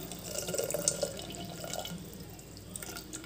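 Jaggery syrup is poured into karuppu kavuni black rice payasam, making a soft, close, trickling and dripping liquid sound that runs for a few seconds, low in level, with no voice.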